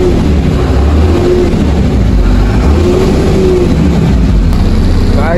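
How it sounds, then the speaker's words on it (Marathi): Car engine runs loud and close, a continuous low rumble that swells and dips as it revs, with no talking over it. "गाडी झाली चालू."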